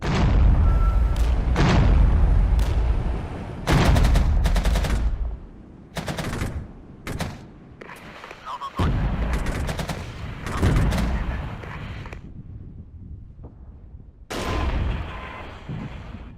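Tanks firing in the Cold War strategy game Regiments: loud cannon booms and crackling gunfire come in heavy bursts, densest at the start and returning through the clip, with no talking.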